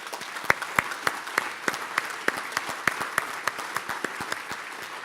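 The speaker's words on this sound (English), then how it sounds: "So I think that deserves a brief round of applause." A hall audience at a conference opening plenary in Halmstad gives a brief, sparse round of applause, with distinct individual claps standing out at an uneven rhythm over a softer background patter.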